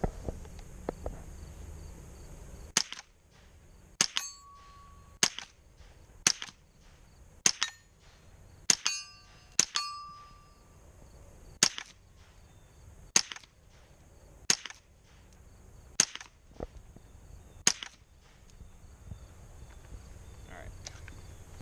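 A 30-round AR-platform plinking rifle fires about a dozen sharp, fairly light cracks at uneven intervals of one to two seconds, each with a short tail, outdoors and close by.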